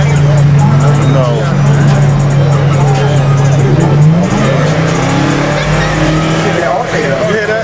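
Loud custom car engine, a Grand Marquis, revving at a custom car, truck and bike show, a steady low drone that climbs in pitch midway and holds, with crowd voices and talk running over it throughout.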